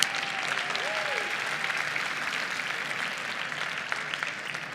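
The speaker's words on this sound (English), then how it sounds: "I think we owe Debbie and her team at BAI a good, sturdy round of applause for putting on another great conference for us." A conference audience at an awards celebration gives steady, even applause, a broad wash of many hands clapping at moderate volume with no clear voices over it.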